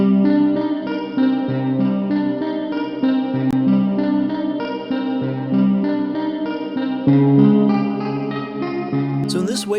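Physical modeling synthesizer patch with a chorused electric-guitar-like tone plays a dense, sustained melodic line of layered notes in a horror-style game score, ending with a brief bright noise burst.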